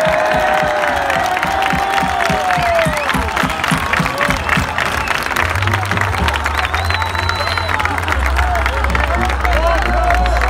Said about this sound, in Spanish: Como si vosotros aplaudís como si hubiese terminado y ya está.